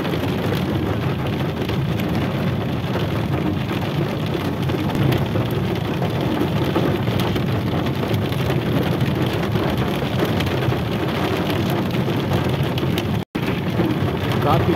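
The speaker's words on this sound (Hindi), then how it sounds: "काफी तेज बारिश हो रही है" Heavy rain pours steadily in a hill village in Kumaon, a dense, continuous hiss of drops on surfaces that stays loud throughout, with no talk over it.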